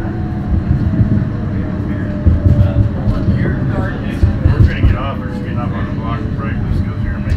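An Oklahoma City streetcar rolls into the North Edison stop, a low rumbling hum with squeals and rattles while a voice speaks over it.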